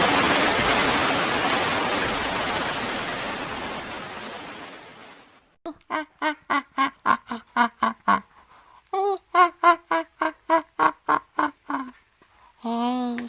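Rain falls at night in a Bengali cartoon, a steady hiss that fades out over several seconds before a string of rhythmic, evenly spaced tones takes over.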